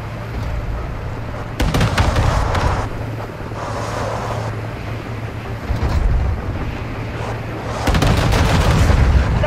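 Heavy APC gunfire in Call of Duty Modern Warfare II booms in repeated loud bursts of rapid shots over a constant engine rumble and battle noise.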